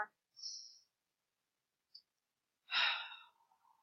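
A person yawns close by, with a few soft breaths and small clicks in near silence, then a long, breathy, drawn-out exhale trailing off into a low moan.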